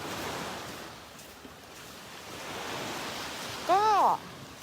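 Sea waves wash onto the shore at Koh Kood Paradise Beach, just steps from a seafront room: a steady, broad surf hiss with a brief high whistling tone near the end.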